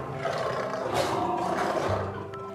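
A lion roars in a deep, rumbling, sustained call at close range, rising and holding for about two seconds before fading, with no talk over it.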